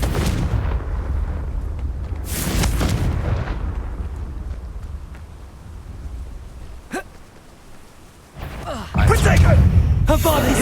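Confringo blasting spell from the Hogwarts Legacy video game: loud booming bursts over a dense rumbling battle bed, one big blast early, a sharp crack midway and a heavy explosion near the end.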